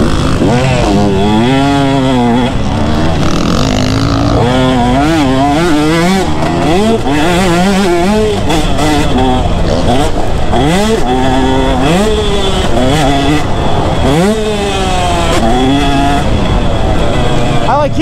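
Two-stroke motorcycle engine ridden in too high a gear, its loud buzzing note rising and falling repeatedly through revs and shifts, close and continuous for the whole stretch.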